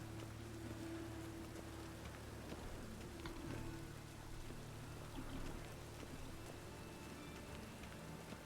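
Steady rain falling in The Witcher 3, a dense even hiss of drops and splashes, soft and continuous throughout with no voices.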